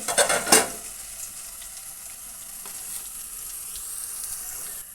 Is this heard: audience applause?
no